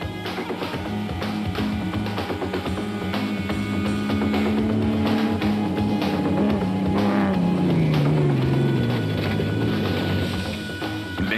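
A Land Rover game-capture vehicle races along a rough off-road route in the Rustenburg 200 2007 event, its engine droning loudly and revving with pitch rising then falling as it pushes hard over the terrain.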